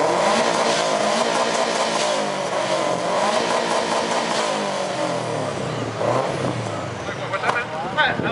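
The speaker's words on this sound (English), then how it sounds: "oh, your car's loud as fuck" A loud car exhaust revs nearby at a car meet exhaust competition, its rough tone rising and falling throughout, with voices talking over it.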